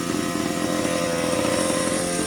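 A Rovan 360GT 1/5 scale RC sand buggy's gas engine idles high on its first run, a steady, loud, buzzing two-stroke drone that holds without a break.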